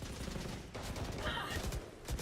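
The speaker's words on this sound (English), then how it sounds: "A lot of bullets flying forwards here, stray shots" Rapid gunfire and scattered stray shots from a professional Valorant esports match, NRG against Cloud9, crackling steadily and densely throughout at moderate loudness, with a faint hint of voices beneath.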